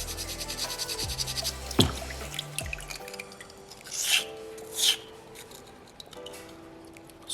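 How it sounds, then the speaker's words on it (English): Soapstone being sanded with folded sandpaper to cut a groove, giving short scratchy rubbing strokes, close and fairly loud, over a background of music, with no talking. "If I want to make a groove, I want to try and fold my sandpaper up to get the thinnest possible ridge I can"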